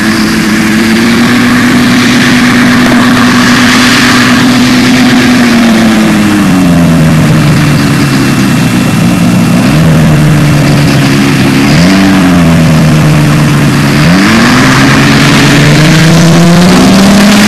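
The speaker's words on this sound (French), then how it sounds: "faire en sorte que lorsqu'on passe au ralenti, le moteur tienne les 2000 tours" The engine of a Pou du ciel HM293 ultralight aircraft runs loud and close, idling steadily and then revving up and down repeatedly in short bursts before takeoff.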